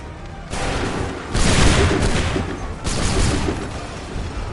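Musket volleys from Assassin's Creed 3 sound as three loud, heavy bursts of massed gunfire, each crackling and rumbling before decaying, spaced roughly a second or so apart.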